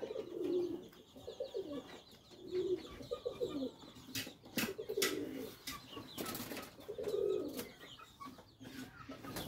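Pakistani breeding pigeons in a loft coo repeatedly in rolling, throaty bursts that come in a steady rhythm close by, with faint rustling and clicks between calls and no talking.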